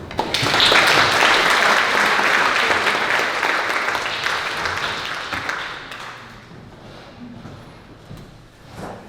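Audience applause welcoming a speaker at a commemoration event held by the Belgian Heritage Center in Wisconsin. Loud, dense clapping from a crowd fills the room, then gradually thins and fades with a few scattered claps at the end.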